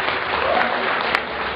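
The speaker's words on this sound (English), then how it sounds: "Let's give a round of applause for everyone." A hall audience claps at a product launch in a hotel ballroom, a dense, steady burst of applause that holds at an even level throughout the short stretch.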